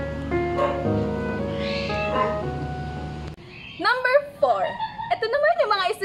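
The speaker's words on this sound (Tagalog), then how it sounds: "Minsan may mga tahol ng aso" A dog yips and whimpers in a series of short, high, pitched barks in the second half, following a stretch of tonal music, in a noisy home during an online class.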